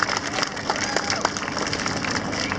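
At a park opening in Mesa, a crowd gives a round of applause. Scattered claps rise over a murmur of chatter and voices, moderately loud and steady for a few seconds.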